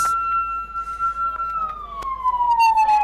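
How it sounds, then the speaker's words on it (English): An ambulance siren wails at an emergency scene during a Kenya Red Cross training exercise, a loud close tone that slowly falls in pitch as the vehicle arrives, with clicks and scattered crowd noise around it. "The ambulance is here in record time, courtesy of our trained EMTs."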